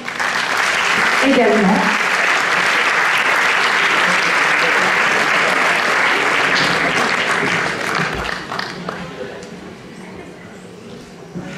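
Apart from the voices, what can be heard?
audience applauding at Miss Côte d'Or pageant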